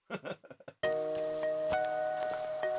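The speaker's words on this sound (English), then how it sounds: "I got some like footsteps in the rain to start out the track." Rain-like footstep patter used as a sound effect to open a music track, entering after a brief intro of separate short hits and then continuing steadily under sustained synth tones.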